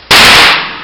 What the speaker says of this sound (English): Somebody's throwing firecrackers at me.